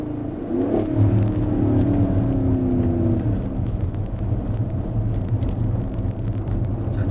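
Low, heavy rumble of a Mercedes-AMG GLE 63 4Matic engine settling after a downshift, heard steadily from inside the cabin with a brief rising swell early on, continuous and fairly loud.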